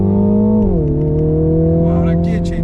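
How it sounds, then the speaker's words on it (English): A 2021 Mini Countryman JCW 306 accelerates hard, its engine drone held under load and then dropping sharply in pitch as the gearbox shifts up, close and loud inside the cabin. "Wow, that gear change is so jerky for a torque converter."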